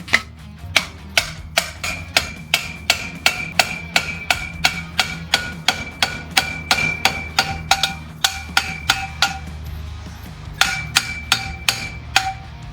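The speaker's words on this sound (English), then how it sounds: "put it on an axle, an old one, a nasty one, and smash it with Thor the hammer" A hammer strikes a kart bearing being driven onto an old axle: a long run of sharp metallic blows at a steady, fairly quick rhythm, with a short pause before a final burst, close and loud.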